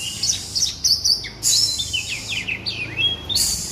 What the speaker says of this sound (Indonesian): Anakan kacer. Kacer nggih.